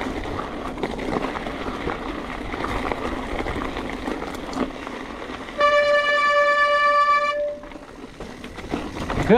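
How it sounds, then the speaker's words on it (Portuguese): A train rumbles past on the rails near a mountain-bike trail lookout in Barreiras, Bahia, and its horn blasts once, loud and sustained for about two seconds, over the steady roar of the wagons. "Canta trem."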